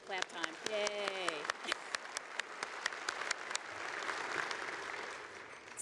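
An audience at a space symposium dinner claps, starting as scattered distinct claps and thickening into a steady room-filling patter, with a brief cheering voice near the start.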